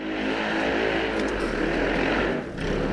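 A snow bike engine revs on a rider's first outing in the snow, a loud, close, sustained droning roar that holds steady for about three seconds with one brief dip near the end.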